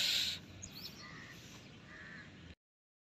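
Crows caw outdoors in a sunny open setting, several rough calls following a loud opening burst, moderately distant and alone with no talk.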